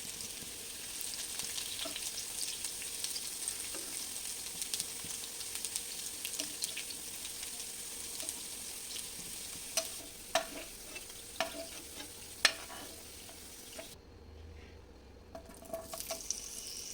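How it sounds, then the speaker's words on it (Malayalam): Thin round carrot slices fry in hot oil with a soft continuous sizzle, broken by a few sharp stirring clicks and scrapes near the end of the pan work. "ആദ്യം നമ്മൾ ക്യാരറ്റാണ് വറുത്തെടുക്കാൻ പോകുന്നത്."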